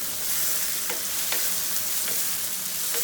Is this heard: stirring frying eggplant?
yes